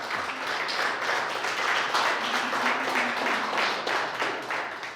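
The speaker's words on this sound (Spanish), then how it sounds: "Dale un aplauso a Dios porque nos quiere convertir en eso." Congregation applauding during a Spanish-language church service, a steady wash of many hands clapping at moderate loudness that holds for about five seconds, with a faint voice briefly audible underneath.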